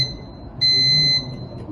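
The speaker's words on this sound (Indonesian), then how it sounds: "maka akan bunyi buzzer dan lampu merah akan menyala" A PLC training station's buzzer alarm sounds when a carton is removed. A steady, loud electronic tone holds for about half a second over a low machine hum.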